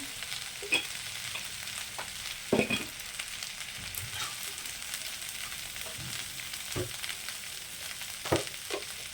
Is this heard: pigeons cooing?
no